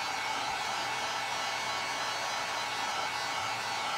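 A hair dryer blows on freshly made craft leaves, giving a steady, unbroken whir that holds at the same loudness throughout with no talking.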